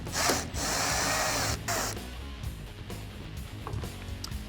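A power tool whirs in short bursts while backing screws out of a full steel door on a Jeep Wrangler TJ, two loud high-pitched spins up front, then quieter rattling and handling noises.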